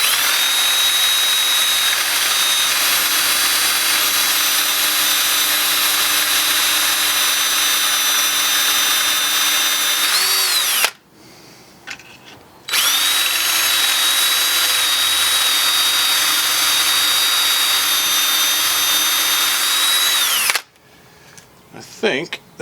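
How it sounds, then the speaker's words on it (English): A power drill with a 3/16-inch bit whines loudly and steadily while boring a hole, stops briefly with a few clicks, then runs again and cuts off. "it requires a 3/16 bit in the drill for the hole"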